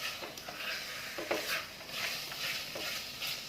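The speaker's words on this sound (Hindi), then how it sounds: "लगातार कड़छी चलाएंगे" A ladle scrapes and stirs green chickpea masala with kasuri methi in a pan over low-medium heat, a quiet, close, uneven rhythm of soft scrapes under a faint sizzle.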